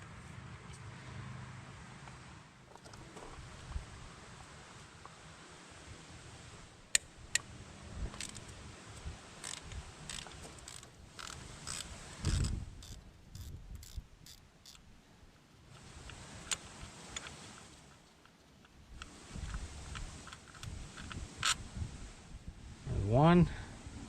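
Ratchet and socket loosening 12 mm bolts on the valve cover of a Terex excavator, a quick run of sharp clicks with metallic ticks, heard close up under a steady low background hum.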